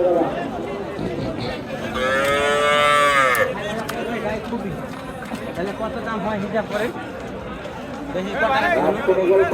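Native cows at Sonaichandi cattle market in Chapainawabganj, one giving a long, fairly close moo early on, set against steady crowd chatter and people talking throughout.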